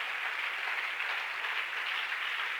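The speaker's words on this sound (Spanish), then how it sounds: "¿Quiere darle un aplauso al Señor a esta hora?" A church congregation claps steadily for the Lord during a Spanish-language sermon, a dense, even wash of applause that fills the whole stretch without a break.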